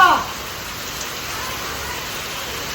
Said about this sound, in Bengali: এখন প্রচুর বৃষ্টি হচ্ছে এখন।